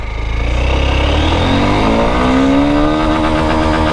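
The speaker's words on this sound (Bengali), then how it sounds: "প্রথমে চলেন হোন্ডা এক্সব্লেড এফআই এবিএস এটার ফার্স্ট, সেকেন্ড, থার্ড গিয়ার টপটা দেখি" Honda XBlade FI ABS motorcycle engine revving up loudly and close, pitch climbing steadily through first, second and third gears with brief shift dips, heard alone.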